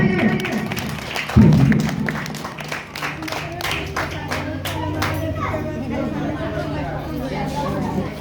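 A crowd claps at an Ambedkar Jayanti award ceremony in Chinveria, a burst of applause from an audience with many children that fades into scattered claps under steady chatter and voices.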